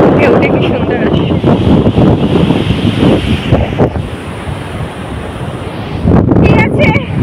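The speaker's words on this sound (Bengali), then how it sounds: "ঢেউটা কি সুন্দর আসে।" Ocean waves break on the beach at Mandarmani as strong wind buffets the microphone, giving a loud, rumbling wash of surf and gusts that ease slightly in the middle before surging again.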